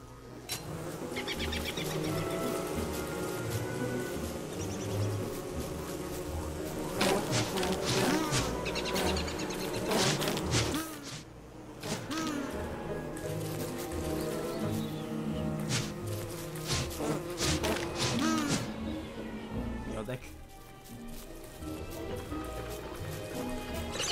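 Bees buzz in the video game Don't Starve Together, a dense insect drone alongside game sound effects and music, steady and fairly loud throughout, with players talking intermittently.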